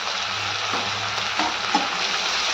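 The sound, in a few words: onion and green chili paste sautéing in a kadai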